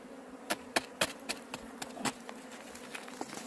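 Honeybees at an opened hive give a low, steady hum, broken by a series of sharp, irregular taps and clicks close by.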